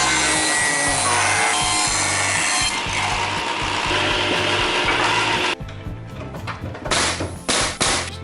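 A saw cuts through 3/4 inch wood stock for window trim, a loud, steady rasping drone for about five and a half seconds, then it stops and short bursts of rubbing and handling noise follow.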